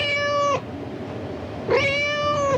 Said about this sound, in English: That could be the sound your cat is making right now in celebration of International Cat Day.